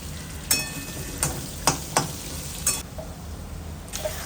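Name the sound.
potatoes frying in oil with five-spice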